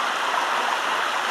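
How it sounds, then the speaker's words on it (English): Water from a fountain splashes in a steady, even rush, loud and close, with no voices over it. "It looks like a water fountain of some kind."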